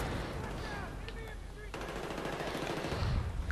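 Rapid automatic gunfire rattles in the Battlefield 3 video game, a dense, fairly distant burst of shots running steadily through the whole stretch with faint scattered effects.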